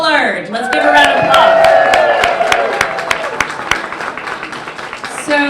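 Audience applause breaks out at an evening book launch at a whaling museum, a bright rush of clapping that swells after a brief voice and then thins into scattered claps.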